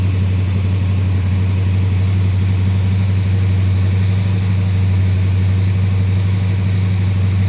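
A 1970 Buick Skylark with a 284-88H cam idling rich on a cold spring day, a steady low, loud engine drone running unbroken and alone, with no talk.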